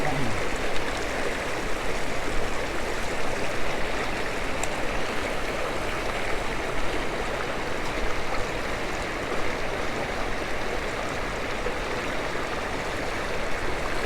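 The Bhagirathi river flowing at Gaumukh below the Gangotri Glacier, a steady broadband rush of mountain stream water, close and continuous throughout.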